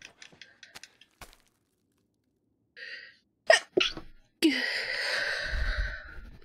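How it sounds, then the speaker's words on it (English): A single sharp sneeze after a quick intake of breath, followed by a loud breathy exhale, preceded by faint clicks and taps in an otherwise quiet room. "I'm already gonna sneeze"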